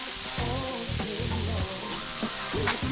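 Prawns sauté in a hot Circulon pan, sizzling and crackling steadily at close range with intermittent bursts of stirring and shuffling across the pan.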